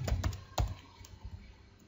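Typing on a computer keyboard while writing CSS code for a web page: a short burst of several quick, close keystrokes, then lighter scattered taps, with no talking.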